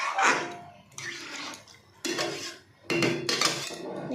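Daliya khichdi with dal is mixed in a cooking pot, four distinct bursts of spoon scraping and clanking against metal with short pauses between, close and moderately loud, with no talking.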